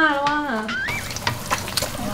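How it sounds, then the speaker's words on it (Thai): Two fried eggs sizzle steadily in a pan while fried instant-noodle rice is being made, the crackle close and continuous, with a brief voice-like tone at the start and a few sharper pops later. "ตอนนี้นะเราก็ทำไข่ดาวนะครับ2ใบนะครับ"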